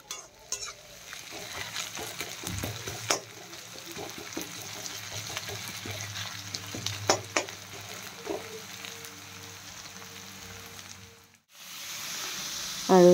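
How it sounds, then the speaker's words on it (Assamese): Onions frying in a pan for matar paneer, a steady close sizzle with intermittent stirring and scraping that runs for most of the clip, briefly dropping out before resuming louder. "ধুনিয়াকৈ পিয়াজটো ফ্ৰাই কৰি লম"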